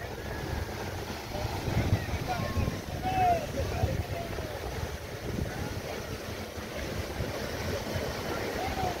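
Sea waves roll and break at Juhu Beach in Mumbai's Vile Parle area, a continuous surf wash mixed with heavy wind buffeting the microphone, with faint distant voices in the background.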